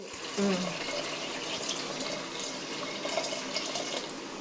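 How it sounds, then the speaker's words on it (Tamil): A steady stream of water pours and splashes continuously into a pot, filling throughout at an even level. "6 டம்ளர் தண்ணி இதில்."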